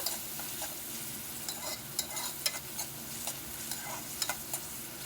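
Ginger-garlic paste stirred into browned onions in a pan while cooking chicken curry, a soft steady sizzle broken by several sharp scrapes and clicks of a spoon, with no talk.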